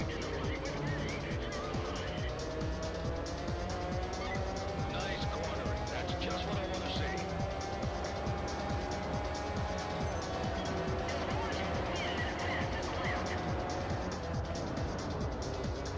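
BMW McLaren race car in the video game R Racing Evolution, its steady engine drone holding a rising pitch with tire squeal over it, running continuously under a voice.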